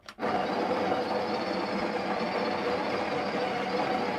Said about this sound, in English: Let's grind some coffee.